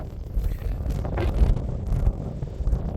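Warm evening wind at a wild camp beside a Lanshan 2 tent, buffeting the microphone as a steady low rumble with gentle gusts rising and falling throughout.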